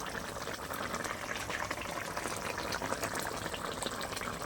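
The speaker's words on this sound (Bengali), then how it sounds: "জলটা কিন্তু ফুটে গিয়েছে" Water boils in a fish curry pot, a soft, steady bubbling and churning that runs continuously at low volume with no talk over it.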